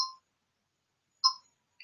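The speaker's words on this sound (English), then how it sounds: "my phone started ringing." An electronic phone ringtone chimes twice, a bright two-tone ding with a long pause between, and a third chime just starting at the end.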